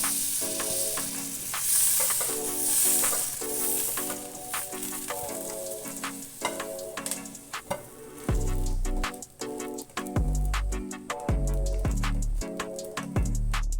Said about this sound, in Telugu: దీనిలాగే మిగతా బ్రెడ్ ముక్కలను కూడా అటు ఇటు బాగా రోస్ట్ అయ్యేలా కాల్చుకోవాలి.